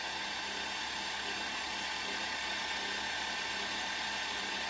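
A drill bores a hole in a workpiece held on an electronic rotary table driven by a stepper motor, a steady loud high-pitched whine continuing without break.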